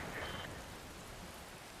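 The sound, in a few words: rain falling in video game Metal Gear Rising: Revengeance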